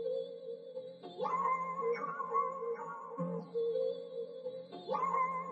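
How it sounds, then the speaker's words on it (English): A piano melody processed through guitar effects pedals for a hip-hop beat, warbling and pitch-bent with gliding tones rising and falling, moderately loud and alone. "I then took that piano and ran it through some of my guitar pedals"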